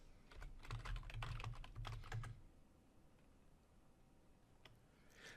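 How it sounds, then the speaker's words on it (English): Fast bursts of keystrokes on a computer keyboard during Windows Server PowerShell work, close and clear for about two seconds, then quiet with a couple of isolated taps near the end. "The first thing I can do is type"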